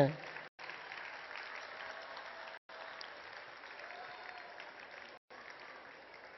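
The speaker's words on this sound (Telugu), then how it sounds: "చప్పట్లు కొట్టచ్చు కదండి, పాపం వాళ్ళు కష్టపడితే." Audience applause at a community celebration event, a fairly faint, steady wash of clapping broken by three brief silent gaps.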